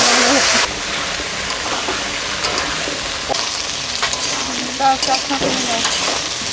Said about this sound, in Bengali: ওলকপিটা ভেজে নেব